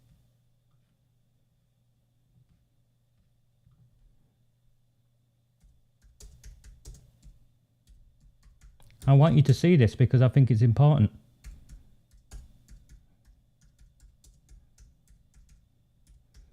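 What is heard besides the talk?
one-finger typing on a computer keyboard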